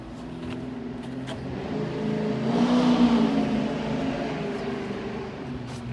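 A motorcycle passes by outside a garden, its engine drone rising to a peak midway and then fading as it moves off, with no talk over it.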